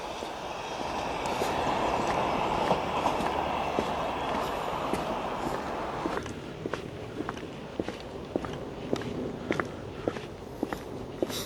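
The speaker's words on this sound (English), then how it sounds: "Lots of trains." Train passing along the coast at Dawlish Warren, a broad rolling rumble that eases off into a run of sharp wheel clicks and clatters over the track, at moderate distance.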